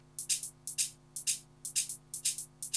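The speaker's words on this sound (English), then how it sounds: "we have this little hi-hat track coming in" Hi-hat sample loop from a music production library, with bright hissy hits in a steady rhythm of quick paired strikes and a faint low hum underneath.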